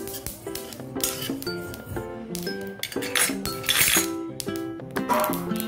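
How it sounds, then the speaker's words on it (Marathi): Flaxseeds roast in a pan over a low flame, their dry rattle overlaid by frequent close metallic clinks and scrapes of a spoon stirring against the pan in an uneven rhythm. "हे बघा माझी अळशी आता भाजते चांगल्या प्रकारे"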